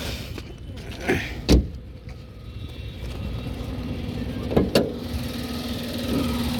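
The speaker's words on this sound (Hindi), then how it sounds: "ये मैंने गाड़ी को स्टार्ट कर लिया" Tata Tiago three-cylinder engine idling with the bonnet open, a steady low hum under a few sharp clunks and handling noises, close by.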